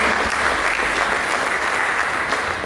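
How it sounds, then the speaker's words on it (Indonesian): Dense, steady applause from a church congregation fills the whole stretch, loud and continuous with no speech over it. "Berikan tepuk tangan bagi Yesus."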